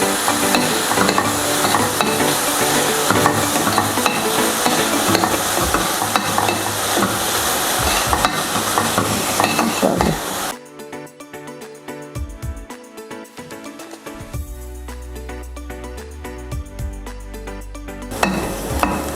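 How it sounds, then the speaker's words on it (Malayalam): Onions sautéing in butter in a pan for butter mushroom, a loud continuous sizzle with stirring scrapes, easing briefly mid-way before the frying noise swells again. "സബോള നന്നായിട്ട് ഒരു ചെറിയ ഗോൾഡൻ ബ്രൗൺ ആക്കി വരെ വഴറ്റുക ബട്ടറിൽ."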